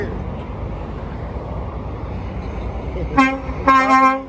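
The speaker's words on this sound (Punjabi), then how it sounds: "ਉਹ ਵੀ ਹਾਰਨ ਦੇ ਕੇ ਆਪਣੀ ਹਾਜ਼ਰੀ ਲਵਾ ਰਹੇ ਨੇ" Low traffic rumble, then two loud truck horn blasts in quick succession near the end, from trucks in an Australian sheep farmers' protest convoy.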